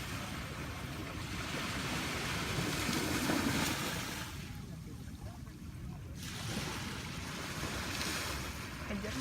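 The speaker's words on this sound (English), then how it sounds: "That's the waves." Ocean surf washes onto Sindhu Beach in Sanur, Bali, as a soft continuous roar with gentle swells and a brief lull, faint and wind-touched.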